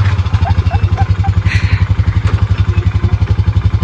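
A four-wheeler ATV engine runs while riding along at a moderate road speed, a loud, close, rhythmic low thrumming pulse with rattling clatter and wind, steady throughout.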